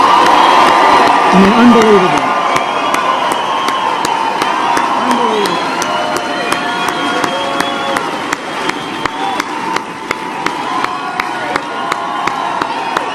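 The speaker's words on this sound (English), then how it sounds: "I want to give as big a round of applause for the men and women who serve in our military." Crowd at an outdoor campaign rally in Pueblo, Colorado, cheers and applauds for military service members. A loud, dense roar is heard at first. It settles into sustained cheering with sharp claps, and someone speaks briefly over it.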